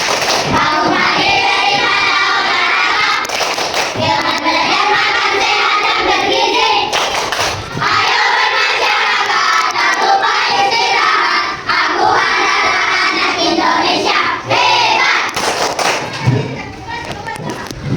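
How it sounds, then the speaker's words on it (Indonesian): A classroom of standing students claps and shouts together in a rhythmic Indonesian clap-chant, loud and close, with sharp repeated hand-clap bursts and group voices keeping a steady beat. "Tepuk anak Indonesia hebat."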